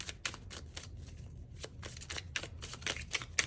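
Tarot cards are shuffled by hand in quick, crisp riffling bursts, close and fairly quiet, with short pauses between the rapid flurries.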